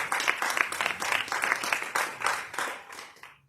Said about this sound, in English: Please give our Vyasji a big round of applause